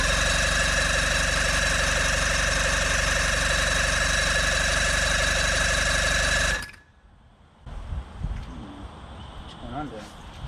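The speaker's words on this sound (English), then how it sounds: "now I'm gonna clean out the carburetors and get this thing really running" An old outboard boat motor, a 140 or 115 HP unit just back from a carburetor cleaning, runs loud and rough up close, then cuts out abruptly, leaving quieter rattles and handling noises behind.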